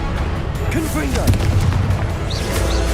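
Loud booming blast from the Confringo spell in Hogwarts Legacy, a fiery explosion amid rumbling battle noise with whooshing spell effects and a couple of brief high chirps near the end.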